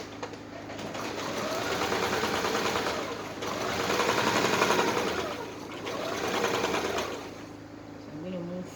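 A sewing machine runs steadily up close, stitching a dress seam with a continuous whirring buzz that swells and eases a few times. A voice speaks over the machine.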